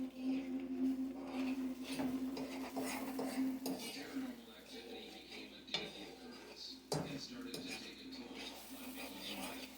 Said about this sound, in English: incorporate the cheese into the eggs. Of course, you see I'm using a fork